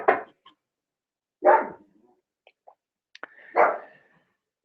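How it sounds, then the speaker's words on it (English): A dog barks three times in separate short bursts, close and fairly loud, with a quiet room and a few faint clicks between barks. "My dog Otto."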